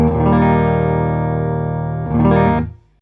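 Electric guitar from a P90-loaded Les Paul neck pickup through an envelope filter into a Fender Deluxe Reverb amp: a sustained chord with a quacky filter sweep, then a second strummed swell that decays into silence.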